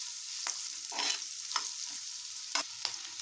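Onions frying in a pan for egg masala sambar, a steady close sizzle broken by several scraping stirs, with no voices.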